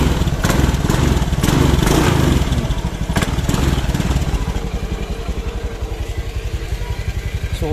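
A Honda Beat scooter engine running close by, a loud steady rumbling idle with rapid pulsing firing and slight shifts in revs, no talking.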